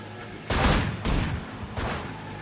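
Three loud, heavy bursts of gunfire from the video game Manhunt, each a broadband blast with a ringing tail, spaced roughly half a second to a second apart over a low steady hum.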